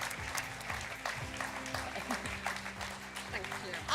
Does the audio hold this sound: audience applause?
yes